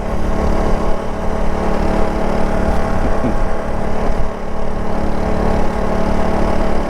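A buzzy, loose small-bore motorcycle engine runs steadily close by, a continuous droning hum with no pauses or talk.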